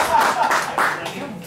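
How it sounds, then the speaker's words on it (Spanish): An audience at an acoustic show applauds, a brief scattered round of clapping blended with voices over about a second and a half. "Otro fuerte aplauso para Loli Rock, nuestra fotógrafa personal y exclusiva del señor Magú."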